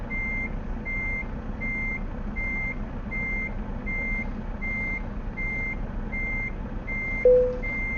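A truck reversing alarm in a driving simulator game, repeating steady evenly spaced beeps over a constant low engine hum. A brief short hiss sounds near the end.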